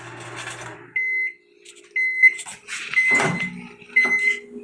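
A microwave oven in a home kitchen, with a steady hum and a few short beeps, close and fairly loud, and no talking over it.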